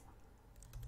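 Quick, light keystrokes on a computer keyboard, faint and close, with a couple of slightly firmer taps near the end of a very short burst of typing.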